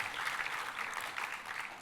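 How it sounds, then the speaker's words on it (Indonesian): A church congregation applauds during a sermon, giving a dense, steady wash of clapping at moderate distance, fairly quiet and continuous, with no voice clearly over it. "Tepuk tangannya pula yang paling meriah buat Tuhan kita."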